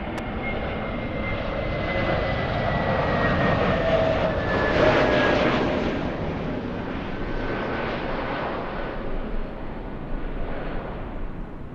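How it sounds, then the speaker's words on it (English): An Aeromexico Boeing 737 MAX 9 jet takes off bound for Guadalajara, a strong engine roar with a whining tone that swells toward the middle and then eases off slowly as it climbs away. "Next one taken off is the Mexicans. Aeromexico 785 flying to Guadalajara. We're looking at a 737 MAX 9."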